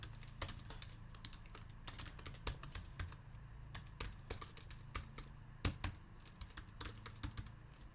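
Code is typed on a computer keyboard during a programming lecture, a quiet but rapid, irregular clatter of keystrokes that runs steadily throughout.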